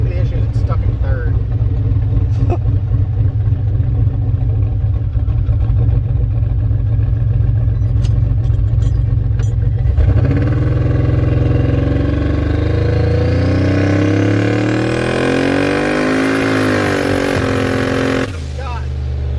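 A turbocharged Ford Ranger engine, running boosted and lean on methanol, idles with a rough lopey rumble and then pulls hard, its pitch climbing steadily through the gears in a loud sustained roar before cutting off abruptly.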